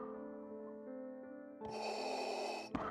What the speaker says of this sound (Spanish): La incesante ronquera de su respiración interfería con su capacidad de descanso